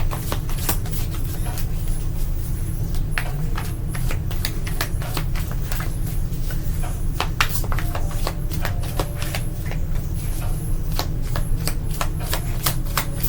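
Tarot cards are shuffled by hand in a continuous run of crisp riffling flicks and soft slaps, close and steady with no talking.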